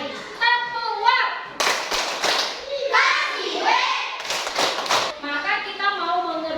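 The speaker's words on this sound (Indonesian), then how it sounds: "Tepuk." A class of children claps together in appreciation in a classroom, a short rhythmic burst of hand claps interleaved with children's voices and a teacher speaking.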